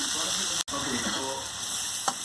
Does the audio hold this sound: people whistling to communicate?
no